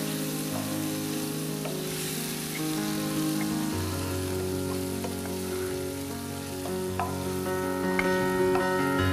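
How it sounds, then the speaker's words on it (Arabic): Chicken pieces sizzle and crackle steadily in hot oil in a pan, a dense continuous frying hiss with scattered pops, fairly loud and close, no voices. "أول قصة من الدجاج تقلى"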